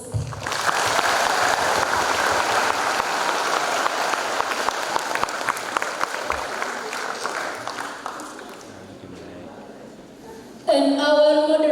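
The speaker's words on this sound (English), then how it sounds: "Give applause." At a public lecture an audience welcomes a guest professor with loud sustained clapping that slowly thins and fades out, followed by a voice at the end.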